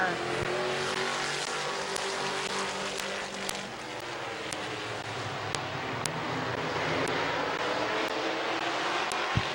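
Race cars circling the track at Midvale Speedway, their engines a continuous loud roar that drones through the stretch, with brief sharp clicks and pops scattered over it.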